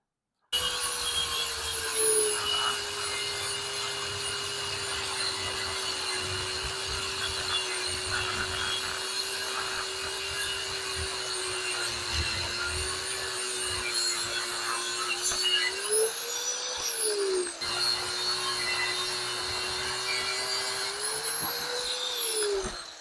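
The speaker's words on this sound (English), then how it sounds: "we'll just hack it off with the grinder" An angle grinder cuts steel brackets off a frame in a steady, loud, continuous whine that holds one pitch for most of the run, with brief rising and falling dips near the end as the disc bites and eases.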